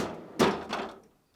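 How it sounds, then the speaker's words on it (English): A GE refrigerator freezer door opens with a single soft thump followed by a brief rattle, close and quiet in an indoor room. "Start by opening the freezer door."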